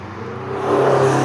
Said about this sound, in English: Supercar, some sort of supercar event.